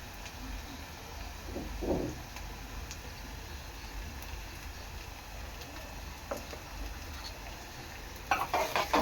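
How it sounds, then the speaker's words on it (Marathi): Onions frying with salt in a pan for a prawn and bean curry, a faint continuous sizzle with sparse stirring scrapes and light clicks, growing a little busier toward the end. "कांदा चांगला लाल होईपर्यंत शिजून घ्यायचा आहे"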